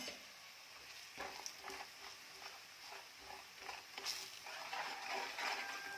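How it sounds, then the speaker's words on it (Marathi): Kolhapuri onion-garlic masala fries in oil in a pan, a quiet continuous sizzle broken by soft repeated stirring taps, with no talking. "मसाला घालून तेलात छान परतून घ्यायचं"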